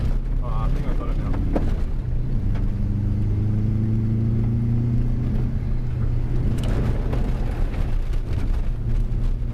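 An all-wheel-drive car accelerates on a track, a steady mid-pitched engine drone rising gradually in pitch, heard from inside the cabin under people talking.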